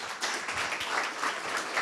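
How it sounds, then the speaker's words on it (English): Audience applause after a presentation at a cybersecurity meetup, a short burst of scattered clapping from a modest crowd, fairly soft and even throughout. "Applause first, and then again, the any questions stands."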